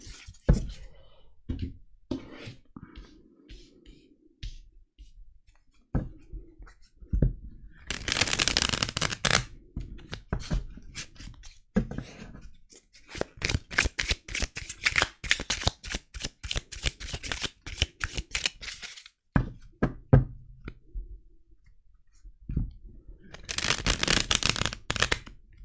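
Tarot cards being shuffled and dealt into a six-card spread: bursts of riffling and flicking separated by quieter pauses, with soft clicks as cards are set down, close and alone.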